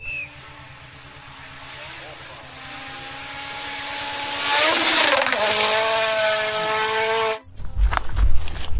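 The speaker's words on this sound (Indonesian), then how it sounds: "di sini ada mobil balap warna putih" A white racing car's engine drones with a rising, whining tone that builds louder, then cuts off into rough bumps and thuds.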